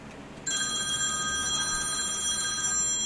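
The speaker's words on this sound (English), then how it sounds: "You better hang that phone up" Telephone ringing indoors, starting suddenly with a loud, continuous electronic bell trill that carries on steadily, with no voices.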